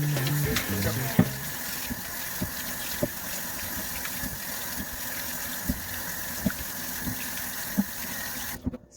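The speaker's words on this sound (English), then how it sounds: "is wash all of the potatoes" Tap water runs steadily into a sink while sweet potatoes are washed, a continuous close hiss broken by occasional soft knocks and bumps, and a few sharper thuds near the end.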